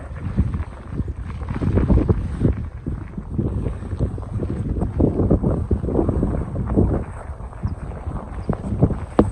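Strong wind on an open, wet moor buffets the microphone in a continuous low roar with gusty surges and no voices.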